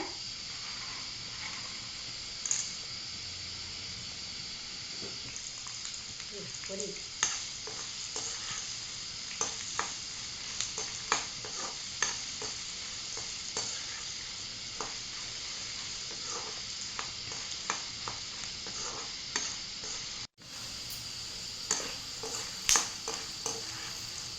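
Dried turkey berries fry in a pan with a steady close sizzle while a spoon stirs and taps the pan in scattered scrapes and clicks. The sizzle cuts off briefly near the end, and no one speaks.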